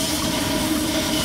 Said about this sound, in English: There we go, a little extra steam coming out.